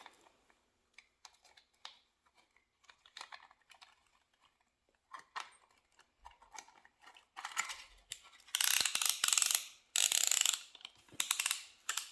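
Ratchet tightening a bolt during a Toyota Hilux 3L engine rebuild: sparse clicks and clanks at first, then bursts of rapid, loud ratcheting clicks in several runs near the end, close and with no talking.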